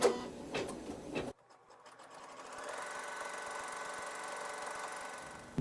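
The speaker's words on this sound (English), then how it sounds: "let the machine sew a tack down stitch" An embroidery sewing machine sews a tack-down stitch fixing quilt fabric over a background with water-soluble thread, a quiet, even, rapid mechanical whir lasting about four seconds after a few louder handling bumps at the start.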